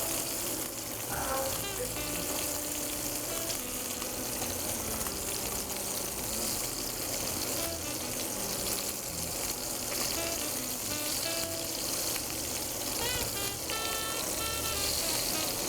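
A steak sizzles and fries in butter in a hot pan, a continuous dense crackle that stays fairly quiet throughout, with no talk over it.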